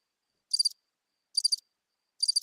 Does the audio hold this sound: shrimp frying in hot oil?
no